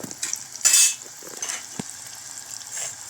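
Potato curry ingredients with raisins and cashew pieces sauté in a pan: a soft, steady sizzle broken by several sharp spoon scrapes and clinks against the pan, close and without talk.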